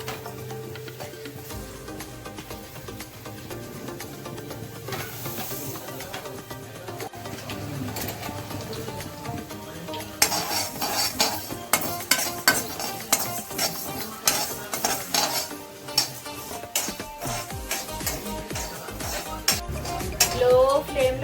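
Cauliflower pickle spices and cumin are stirred in a pan over low flame, a steady run of scraping and clinking of a spoon against metal, growing busier and closer partway through.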